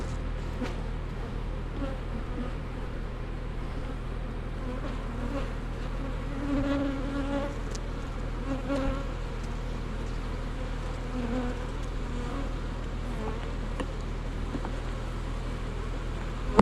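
Honey bees on a beehive frame give a steady, dense buzz that carries on without a break, close and moderately loud, over a low constant hum with no talking.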